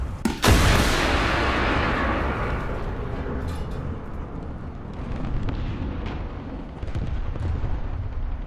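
A launch blast from an ATGM fired in War Thunder, with a German vehicle loadout: a sharp, loud burst followed by a long roaring rumble that carries through the rest of the moment, with no talking.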